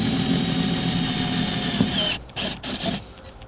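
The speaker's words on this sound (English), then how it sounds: "We'll use a 1/4-inch socket and our self-tapping screw that comes in our kit." Power driver sinking a self-tapping screw with a 1/4-inch socket while mounting a trailer tail light converter, a steady whirring drive for two seconds, then a few short stuttering bursts as it seats.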